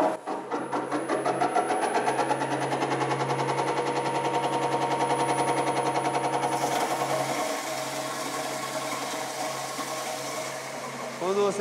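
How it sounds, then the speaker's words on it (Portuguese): An industrial fruit pulping machine runs with a rapid, rattling mechanical beat and steady motor drone, loud and continuous before easing slightly partway through. "eu acredito que vai dar para vocês visualizar o funcionamento da despolpadeira, onde vamos retirar a polpa"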